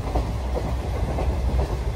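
Narasapur–Nagarsol Super Fast Express running at cruising speed between Kaikaluru and Gudivada Junction, a steady loud rumble of wheels and carriage noise with faint rhythmic clatter throughout.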